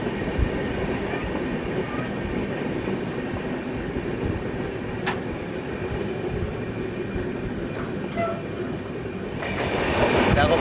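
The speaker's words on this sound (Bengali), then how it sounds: "চিল্কার পাশ দিয়ে এখন আমাদের ট্রেন যাচ্ছে" The 18047 Amravati Express running beside Chilka Lake, heard from on board as a continuous close rumble and clatter of wheels on rails, steady throughout and growing slightly louder at the very end.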